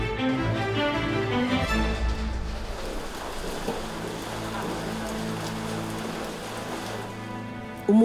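Steady rain falls on a surface in the Philippines, a continuous close hiss of drops with low background rumble and no talk.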